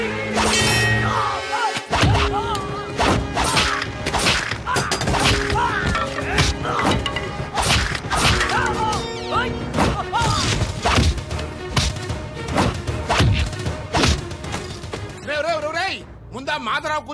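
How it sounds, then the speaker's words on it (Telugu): In a Telugu comedy film scene, car windows are smashed amid repeated loud thuds, whacks and sharp breaking crashes, with dramatic music and shouting voices throughout. "కారు అద్దాలు పగలగొట్టి"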